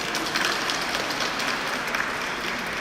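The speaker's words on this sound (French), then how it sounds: "On peut l'applaudir." An audience claps together in a steady, dense burst of applause that fills the room at close range for a few seconds without letting up.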